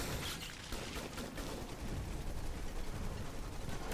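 Turret fire rattles in the Mass Effect game as bursts of rapid synthetic shots crackle over a dense, noisy battle mix, steady and loud throughout with no break.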